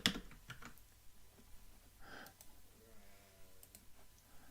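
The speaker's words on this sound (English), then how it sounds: "I know this is exciting watching me typing" Someone types on a computer keyboard, soft irregular clicks and taps, faint and close, scattered across a quiet room.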